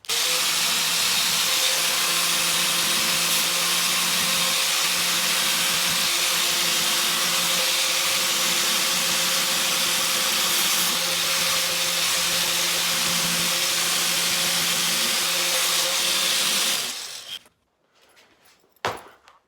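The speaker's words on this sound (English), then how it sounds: "I'm starting with a 60 grit, going to an 80 grit, up to 120" Power sanding of wheels with sandpaper, stepping from coarse 60 and 80 grit up to finer grits, gives a loud, steady abrasive whir and hiss that runs continuously for most of the stretch, then cuts off abruptly near the end.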